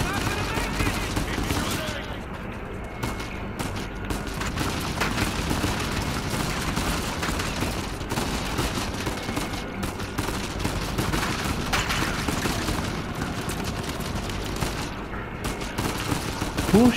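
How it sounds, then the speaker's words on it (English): Gunfire crackles through a firefight in Uncharted 4, with dense bursts and scattered shots layered over steady game noise across the whole stretch, alongside faint voices. "Who's shooting me?"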